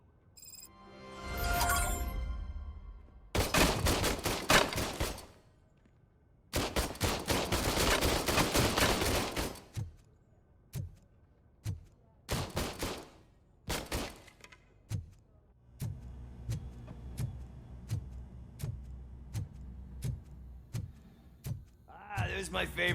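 Gunfire from weapons in RoboCop: Rogue City: long sustained bursts of automatic fire, then a series of separate loud single shots with short gaps between them, and a final burst at the end. No voices.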